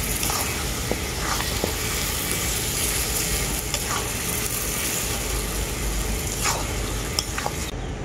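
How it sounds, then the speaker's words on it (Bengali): Hog plum and jaggery are stirred together in a pan for pickle, giving a continuous close sizzle with repeated scraping strokes of a spoon against the pan. "এরপর আমি গুড়টাকে আমড়ার সাথে খুব ভালো করে মিশিয়ে নেব এভাবে।"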